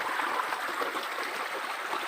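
A creek flows steadily nearby, a soft continuous rushing with light trickling and bubbling, no voices.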